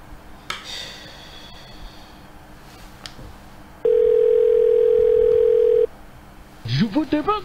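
A steady single telephone tone sounds for about two seconds while a call is placed, between stretches of quieter room noise and brief rustling, ending as a recorded answering-machine voice begins.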